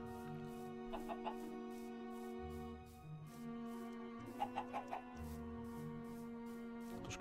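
Minecraft chickens clucking, modded with Better Than Wolves, in a short burst of several quick clucks partway through, set over steady game background music and ambient tones.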